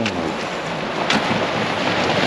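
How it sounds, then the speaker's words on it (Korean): Strong waves surge and wash against the shore near tetrapods on Korea's Gangwon coast, a steady broadband roar with wind buffeting the microphone throughout. "파도가 엄청 이쪽은 또 세네요"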